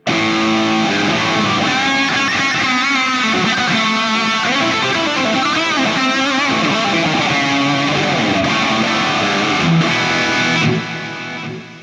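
An electric guitar played through a THU Overloud Big Stack 80 amp model, with heavily distorted chords and riffs ringing out loud and alone, fading at the end.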